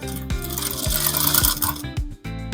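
A sewing machine top-stitches a trouser front pocket, running in quick, loud mechanical bursts close by, with rhythmic clicks and a brief pause near the end.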